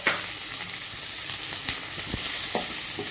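Onions and tomatoes sauté in a pan for a tomato onion thokku, a steady close sizzle broken by a few sharp stirring clicks of a spoon against the pan, with no talking.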